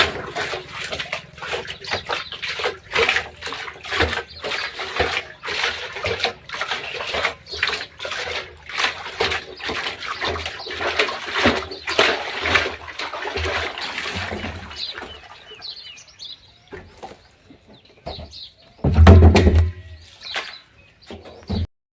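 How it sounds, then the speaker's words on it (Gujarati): A dirty cattle drinking trough is cleaned and refilled with clean water, giving continuous splashing and running water for about fifteen seconds. Birds chirp in the quieter stretch that follows, and a brief low thump sounds near the end. "જુઓ ભરાઈ ગયું ક્લીન પાણી, ફર્સ્ટ ક્લાસ ક્લીન પાણી ભરાઈ ગયું."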